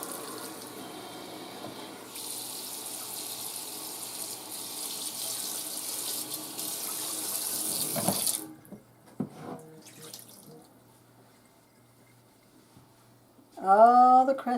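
Running hot tap water splashes steadily over a baking sheet for about eight seconds, then cuts off, leaving brief clatters and a short burst of running water at the end.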